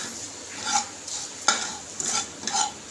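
A spoon stirs spices in a hot cooking pan for a spicy black pea curry, making scraping swishes in uneven strokes over a soft sizzle, with no voices.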